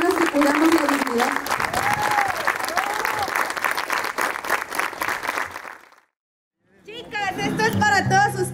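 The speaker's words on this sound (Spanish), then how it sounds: "Un aplauso, por favor, a todas las personas que cuidamos la dignidad." A crowd applauds loudly and steadily after a call to honour workers at a mural event, with some voices under the clapping; the sound cuts to silence, then picks up again with music and voices.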